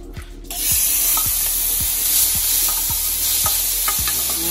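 Shrimp hitting hot oil for a creamy Alfredo pasta, a loud, dense sizzle that flares up after a brief quieter start and holds steady, with faint regular clicks and occasional pops.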